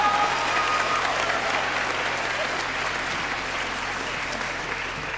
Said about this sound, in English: So give them a hand clap for them.